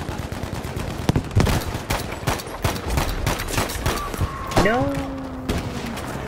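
Rapid video game gunfire with sniper shots crackles in bursts and thuds, with a sharp shout and a falling tone partway through, amid the noise of a busy multiplayer firefight.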